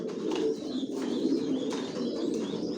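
Racing pigeons in a loft coo softly and continuously, with a few faint chirps layered over the low, rolling calls and no speech.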